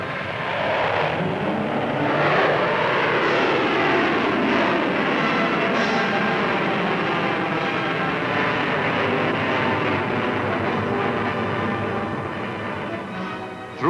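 A 1964 Pershing missile in flight after launch at Fort Wingate gives a steady, loud roar that holds evenly for the whole span and eases slightly at the end, with no voices.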